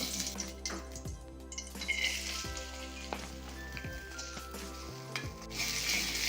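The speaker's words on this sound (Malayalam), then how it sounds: "നമുക്കിനി കുറച്ച് തേങ്ങ ഇന്ന് വറുത്തെടുക്കാം" Grated coconut fries in ghee with a steady, close crackling sizzle that runs throughout, plus occasional stirring scrapes and no voices.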